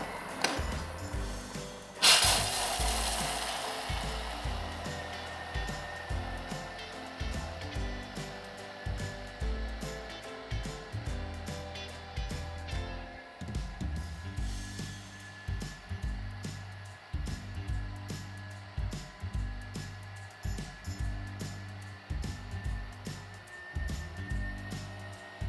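A grinder runs at speed 9 in one continuous stretch, with a steady high whine over a rapid, uneven low thumping that keeps going throughout, close and fairly loud.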